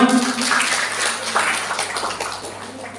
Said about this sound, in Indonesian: Tepuk tangan untuk sahabat Lukman